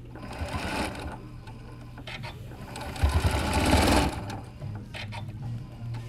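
A sewing machine stitches the edge of a pleat on a fabric face mask, running in close, rapid mechanical bursts that start and stop several times, with a voice talking between the runs.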